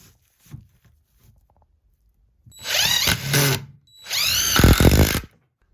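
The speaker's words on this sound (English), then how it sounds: "we're gonna screw them in from this side, two screws" A power drill driving two screws into a 2x4: two bursts of whirring motor, each rising and bogging down as the screw seats, close, after a few quiet handling taps.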